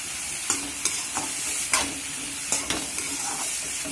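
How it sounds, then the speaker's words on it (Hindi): Turmeric frying on low heat in a pan, a steady soft sizzle with a spatula stirring and tapping at irregular intervals, close and without talk. "थोड़ी सी हल्दी, हल्के आंच में थोड़ी सी फ्राई करेंगे।"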